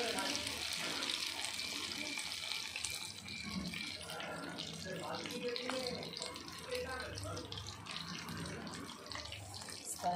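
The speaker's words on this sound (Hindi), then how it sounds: "गरम ऑयल करिए, ऑयल में ये डाल दीजिए आप, एक एक पीस करके डालिए" Chicken pieces for chicken 65 frying in hot oil in a kadai, giving a continuous hiss and crackle of sizzling while a person talks over it.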